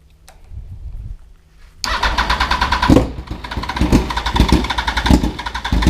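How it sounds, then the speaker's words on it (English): A motorcycle engine cranks briefly, then catches at about two seconds and runs loud and close, revving unevenly with sharp bursts through to the end. "So the bike starts, engine isn't seized"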